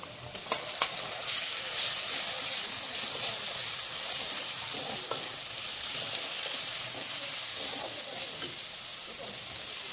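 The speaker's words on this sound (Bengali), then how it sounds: "পেঁয়াজ ভাজা হয়ে গেল, এখন দিয়ে দিব মশলা" Onions sizzling steadily in hot oil as spices go in, for a fish piyaji, with scattered clinks and scrapes of stirring over a dense, even frying hiss.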